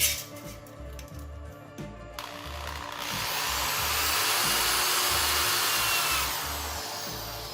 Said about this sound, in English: We'll drill some holes in this and see if we can tack them on.